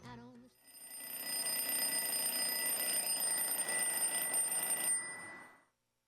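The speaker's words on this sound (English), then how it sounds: "That was the sound of our 4 a.m. alarm clock going off on Thanksgiving Day" A 4 a.m. alarm clock rings on Thanksgiving Day morning, a loud steady electronic tone that starts after a brief pause, holds for about four seconds, then cuts off into silence.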